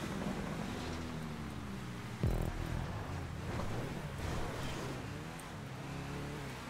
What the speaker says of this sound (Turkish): Bu araba sesleri niye bu kadar fazla?